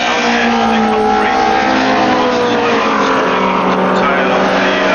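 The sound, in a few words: Alfa Romeo race cars racing at Brands Hatch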